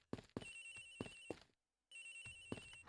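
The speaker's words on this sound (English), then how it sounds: "Agent Hicks's phone? It's ringing from somewhere, sir." A phone rings in the Ace Attorney Investigations video game, with two sets of repeated electronic ring bursts separated by a short silent gap, clear and alone.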